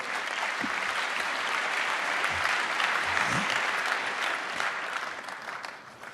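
An auditorium audience of around 3,000 applauds at the close of Richard Stallman's free-software talk, sustained, even clapping that holds steady and then tapers slightly near the end.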